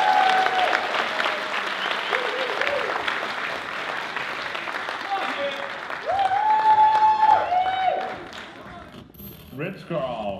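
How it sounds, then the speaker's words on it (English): An audience applauds and cheers for a performing arts group on stage, loud clapping throughout with a voice talking over it and tonal music cues surfacing partway. "Let's have a massive round of applause for the Hewett Academy"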